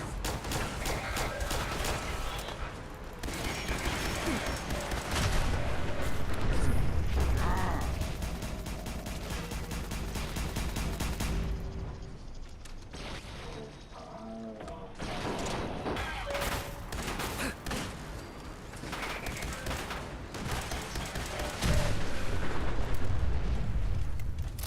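Gunfire in a Fallout 4 firefight, a sustained barrage of shots and blasts at moderate loudness in a dense, chaotic battle mix that swells toward the end.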